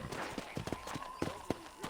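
Horse hooves clip-clop in a light, uneven rhythm as a horse is ridden in the video game Red Dead Redemption, soft and fairly close with faint background ambience.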